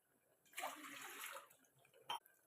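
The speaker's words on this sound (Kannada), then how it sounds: "ಒಂದು ಬಾಣಲೆಗೆ ಎರಡು ಗ್ಲಾಸ್ ನೀರು ಹಾಕ್ರಿ" Two glasses of water splash into a frying pan for about a second, followed by a brief clink at the end.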